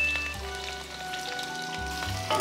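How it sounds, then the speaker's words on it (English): Onions sautéing in olive oil for an Italian meal, a soft crackling sizzle with light spatters, fairly quiet and close, over a low steady hum. "So I'm going to saute my onions."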